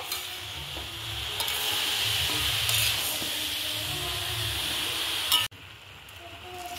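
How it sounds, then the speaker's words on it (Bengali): Jaggery and grated coconut stirred in a pan for coconut naru, a steady scraping sizzle with soft hiss running for several seconds before dropping abruptly to a quieter tail; no talk. "গুড়টাকে দিয়ে আর নারকেল কুড়াটাকে দিয়ে খুব ভালো মতো করে নাড়াচাড়া করে নিতে হবে"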